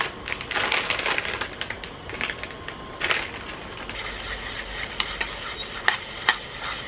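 Rain patters steadily outside a motorcycle campsite on a near-freezing day, with dense irregular ticking and crackling hits, occasionally sharper, and no talk.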